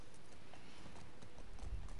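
Horse hooves gallop in The Last of Us Part II, a quick, rhythmic clip-clop on the ground, fairly quiet and growing heavier toward the end.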